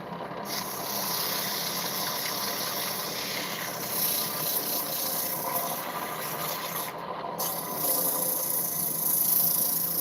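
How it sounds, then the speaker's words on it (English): Sandpaper rubs steadily over a small part on a spinning project, a continuous close rasping hiss with a faint hum beneath it and two brief pauses in the stroke. "Get a piece of sandpaper."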